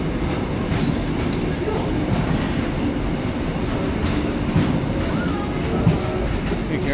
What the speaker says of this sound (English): the train was leaving